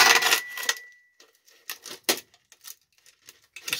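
Plastic lid snapping onto the housing of a homemade soldering fume extractor with a hot-glued carbon filter: a bright clack at the start, then a few small plastic clicks and taps, close and fairly loud, with no talk.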